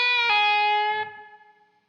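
An electric guitar plays a short distorted lead lick, a couple of sustained notes with slight microtone blues bends, ringing clearly alone before fading out.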